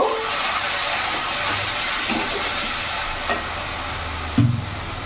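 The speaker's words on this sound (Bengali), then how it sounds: "মশলাটা আমার পুড়ে না যায়, তার জন্য আমি সামান্য একটু জল অ্যাড করব।" Steady hiss and sizzle of water hitting hot Kashmiri chili masala in a pan, a loud continuous steamy rush with a brief sharper burst near the end, no talking.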